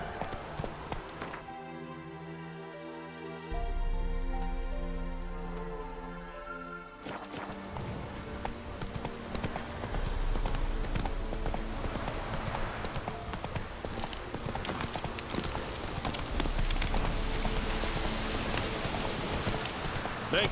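A horse in The Witcher 3 canters on through steady rain, its hoofbeats a continuous clip-clop beneath a constant hiss of rainfall, loud and close, with a brief stretch of humming tone near the start.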